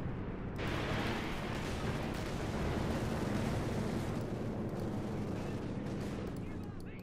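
Sustained gunfire and explosions from a Company of Heroes 2 1v1 battle, with US infantry blasting away at German troops; a dense, continuous roar of shots and blasts throughout, with a voice talking over it.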